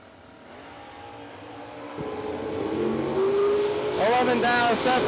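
A twin-turbo Camaro and a third-generation Camaro drag race, with an engine note building and revving harder toward the end over loud crowd and track noise. An announcer talks throughout.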